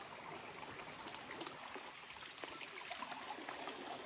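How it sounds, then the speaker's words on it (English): A small creek on the Appalachian Trail flows and trickles steadily, a faint, continuous wash of running water in a quiet wooded setting with no voices. "Nice little creek down here."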